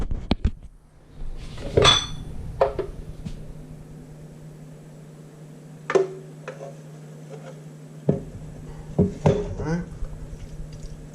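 Pasta and homemade pesto stirred together on a plate, with scattered close clinks and scrapes of a utensil against the dish between quieter pauses and a steady low hum behind.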